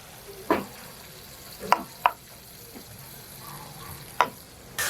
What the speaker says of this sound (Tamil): உள்ளி எல்லாம் உருவட்டும்.